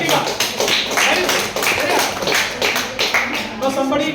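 Students in an accounting class clap for a classmate, a short burst of uneven hand claps mixed with talking voices.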